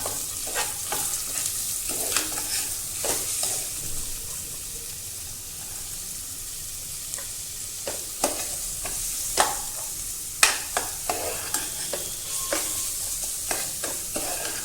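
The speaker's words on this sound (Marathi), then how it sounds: "छान मऊ होस्तोवर कांदा परतून घ्यायचा जरा लाल होस्तोवर" Onion frying in a pan for Maharashtrian batata bhaji, with a steady sizzle beneath repeated scraping strokes of a spoon stirring, the clinks and scrapes louder toward the end.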